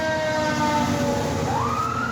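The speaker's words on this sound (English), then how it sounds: "you hear that noise went by, sirens" A wailing siren sweeps up and down over steady traffic rumble, fairly loud and close as an emergency vehicle passes.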